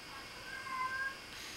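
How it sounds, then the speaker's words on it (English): A house cat gives a faint, drawn-out meow partway through, soft and slightly distant against a quiet room background. "the cat joining in"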